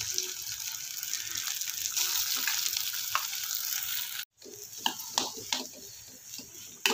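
Mashed boiled potatoes sizzle and get stirred with onions in a hot kadhai, a constant close frying hiss with spoon scrapes, a brief break, then more stirring clatter.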